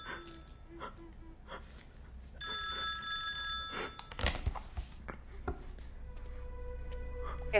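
A telephone rings in short bursts against a quiet room, with faint breathing sounds between the rings.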